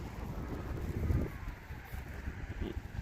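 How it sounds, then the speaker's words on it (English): Steady wind blows across an open outdoor field where a HobbyZone Aeroscout S 1.1m RC plane is being flown, giving a continuous low rumble with gusts and buffeting on the microphone. "Of course, the wind picked up."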